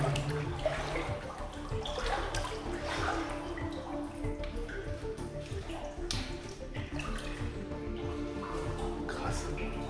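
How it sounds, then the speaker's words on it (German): Water sloshing and dripping with splashes echoing off close walls, in an enclosed, reverberant underground bunker tunnel, with a low rumble beneath. "wenn das Wasser gegen die Wände platscht"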